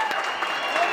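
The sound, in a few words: football fans applauding a goal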